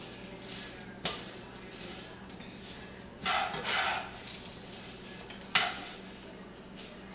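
Fideo pasta toasts in a little olive oil in a hot pan, giving a soft sizzle with scraping stirs and a few sharp clinks of the utensil against the pan.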